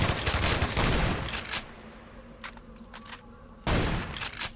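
Bursts of automatic gunfire crackle in the video game Stalker, a dense volley at the start, a few scattered shots in the middle and another loud burst at the end, with a faint insect-like buzz between.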